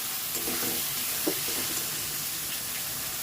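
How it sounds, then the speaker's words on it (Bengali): Masala paste of Kashmiri red chilli powder and spices frying in a pan on low heat with splashes of water for a chicken and papaya curry, giving a loud continuous sizzle with brief stirring scrapes. "সামান্য সামান্য করে জল দিয়ে আমি মশলাটাকে কষিয়ে নেব"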